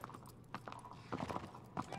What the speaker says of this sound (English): Yeah, you stupid horse.